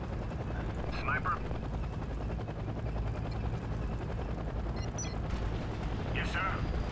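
Apache helicopter in the video game Act of War, a loud, continuous low rotor thrum with a rapid, beating chop throughout, and brief radio-style voices cutting in over it.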